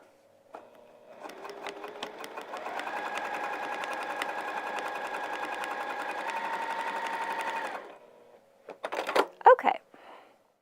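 A sewing machine quilts vinyl for a project bag, starting up and running steadily for several seconds before stopping, followed by a few sharp handling clicks and rustles close by.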